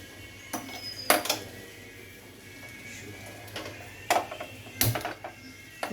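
A metal lid clinks down onto a cooking pan holding steamed hilsa fish (ilish bhapa) with a little oil. A few sharp, close metallic knocks are spread across a quiet kitchen background.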